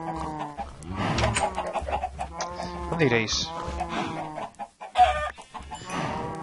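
Minecraft chickens give repeated short clucks and squawks in the game, scattered throughout and interleaved with someone talking over them.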